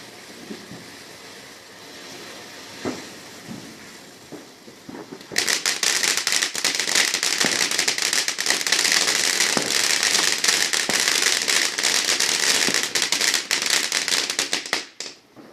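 Fireworks and firecrackers going off on bonfire night, a dense run of sharp crackling bursts after a quieter start with a few isolated pops, loud and continuous to the end.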